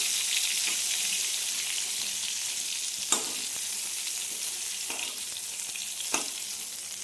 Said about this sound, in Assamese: 2টা চাইডতে এনেকৈ ঘূৰাই ভাজিছোঁ